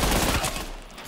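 Gunfire from an action shooter video game, a loud close burst of rapid shots that fades and thins over about a second with no talk.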